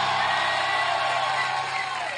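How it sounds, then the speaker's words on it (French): A French TV studio audience cheers and whoops for Moundir, a dense continuous roar of voices and yells with no clear gaps. "applaudissez"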